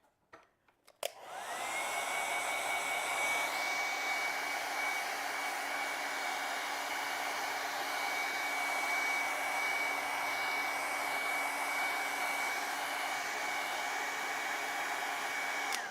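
A hair dryer clicks on and blows a loud, continuous whooshing hum over wet acrylic paint on a shark painting, holding steady to the end.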